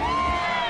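A brief swell of crowd noise at a Hobbit film premiere, with costumed fans lining the road, a steady close-up din of many voices and scattered cheers that lasts under a second.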